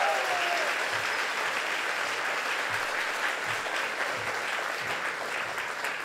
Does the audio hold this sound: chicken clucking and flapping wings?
no